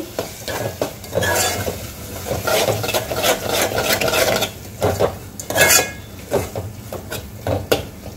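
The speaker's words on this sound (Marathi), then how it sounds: "यामध्ये आता आपल्याला टोमॅटो टाकून द्यायचे आहे आणि छान परतून घ्यायचं आहे।" Tomatoes being sautéed in a pan. A spatula scrapes and clatters against the metal in uneven bursts over a constant background sizzle, and the stirring sounds close and fairly loud, with no talking.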